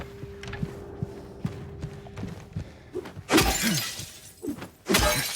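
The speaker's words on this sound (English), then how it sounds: "It's making a breaking glass sound." Crashing, shattering bursts from a mirror in the Silent Hill 2 video game come twice, loud and close, after a stretch of quieter thumps and scrapes, with no one talking.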